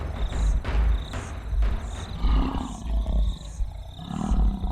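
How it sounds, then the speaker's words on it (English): A lion roars to defend its territory, a series of deep, powerful rhythmic roars and grunting exhalations repeating in close succession, loud and near against an open plain. "The thundering sound of a lion defending its territory can be heard from 8 kilometers away"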